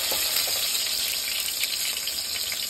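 Chopped garlic and onion sizzle in a hot pan for vegetable soup noodles, a loud, steady frying hiss close by with no pauses.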